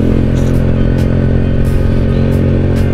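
Motorcycle exhaust roaring close and loud while riding on the road, a dense continuous engine drone with no break and no talk.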